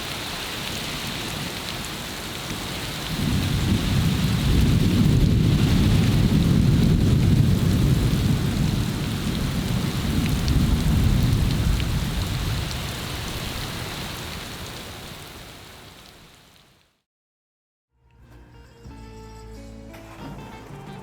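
Heavy thunderstorm rain pounding down on the Caribbean coast, a loud dense roar with low rumbling thunder building from about three seconds and fading out near seventeen seconds, followed by a brief quieter stretch.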